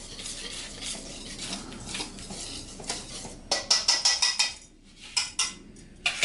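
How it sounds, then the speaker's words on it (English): Metal utensil scraping and clinking against a bowl while baking powder is stirred into flour, a run of quick rhythmic taps and scrapes, close and fairly quiet. "baking powder, I'm gonna add it to the flour. I'm just gonna mix it."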